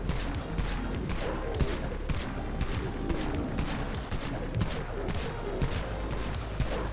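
Corpse blaster shotgun in the game Dead Frontier firing again and again in rapid, evenly spaced blasts over a dense, constant din of combat, with no pause across the stretch.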